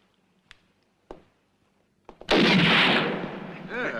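Gunshots ring out at a sharpshooting contest in a Western setting: a few sharp, isolated cracks spaced apart, then a loud, sustained blast with a rumbling tail.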